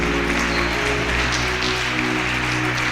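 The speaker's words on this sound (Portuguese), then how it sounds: "Dê uma salva de palmas para Ele, bem forte, bem forte." A church congregation applauds strongly, a steady wash of clapping under a constant low hum from sound equipment, continuous and moderately loud for the whole stretch.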